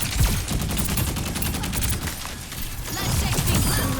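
Rapid gunfire from the hero Sierra in the video game Overwatch, a dense continuous burst of shots with loud, sharp low-end thumps, close and sustained throughout, without talk.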